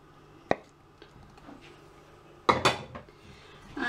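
Eggs lightly beaten with a utensil in a bowl for a homity pie: a sharp clink, then a short flurry of quick tapping and scraping against the bowl, close by and fairly quiet.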